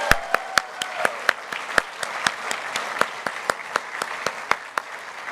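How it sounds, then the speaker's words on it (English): Sparse, evenly spaced claps ring out one at a time for the communication managers at the EcoCAR EV Challenge awards ceremony, a few sharp hand claps in a slow rhythm rather than a full crowd, with a brief tone early on. "Let's give a round of applause to the CMs."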